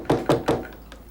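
Three firm knocks on a door in a 1997 romantic drama film, evenly spaced and close, followed by a fainter fourth tap.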